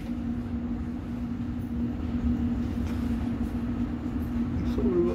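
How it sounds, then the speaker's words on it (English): A London Underground District Line train runs between stations, giving a continuous rumbling roar with a steady hum and a few faint squeals, heard from inside the carriage at moderate level. "This District Line's train to Ealing Broadway."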